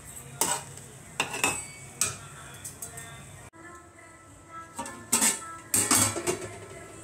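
Gongura leaves are stirred in a pan for pickle: repeated scraping, clinking strokes of a spoon against metal, arriving in short bursts with quiet gaps between them.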